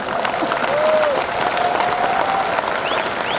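Dense applause from a large audience at a labor party political rally roars evenly throughout, with faint whistles rising over the steady clapping.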